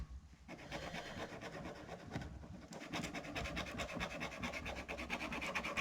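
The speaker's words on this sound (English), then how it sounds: "so we're going to scuff it up here a little bit." Steady scraping and rasping as leather holster material for a Bond Arms Roughneck inside-the-waistband holster is scuffed to roughen it before gluing; continuous, close and fairly quiet, with no talking.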